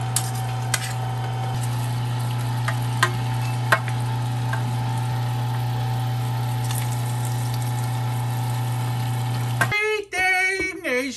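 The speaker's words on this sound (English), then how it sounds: "Let's throw it in the grinder." An electric meat grinder churning guacamole for sausage gives a steady loud motor hum with faint clicks, then the drone cuts out near the end into a brief wavering whine.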